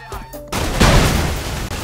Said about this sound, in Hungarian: Hát fel lehet mondjuk robbantani ezt a benzinkutat is.